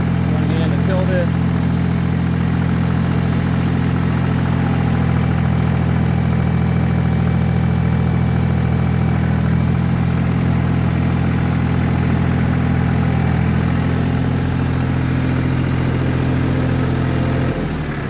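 A used Yanmar F20D 4x4 tractor engine idles at a steady, loud, droning pitch for the whole stretch, with someone talking over it.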